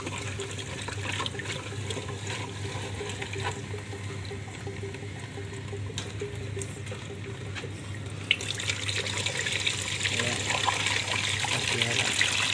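Chilled water rushes steadily through a fan coil unit coil during a backwash, a continuous flushing hiss that grows slightly louder toward the end.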